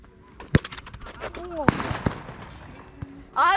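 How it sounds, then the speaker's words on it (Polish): Firecrackers set off outside crack in sharp, scattered bangs, several loud pops spaced irregularly with lighter crackles between, while people talk nearby and a voice rises at the end. "Z petard strzelają pewnie oni."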